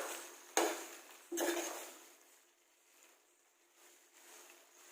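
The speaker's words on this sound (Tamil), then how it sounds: "கொத்தமல்லி ஆட் பண்ணி மிக்ஸ் பண்ணிக்கலாம்." A spatula stirs chopped coriander into a quail pepper fry in a pan, giving two sharp scraping clatters followed by softer, fading shuffling.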